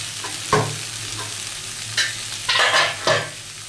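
Chicken for kadai chicken frying in a kadai as a utensil stirs it, giving a steady close sizzle with scraping stir strokes at irregular intervals, several louder bursts near the end.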